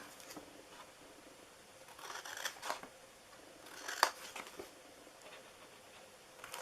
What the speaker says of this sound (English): So we're cutting both ends here.